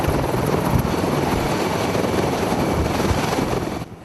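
A military helicopter's rotor beats steadily up close, a loud continuous chopping roar that stays even and then drops away at the very end.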